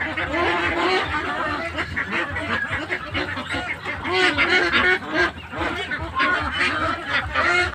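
A dense flock of farm ducks quacks continuously, many birds calling at once in a loud, busy chorus without pause.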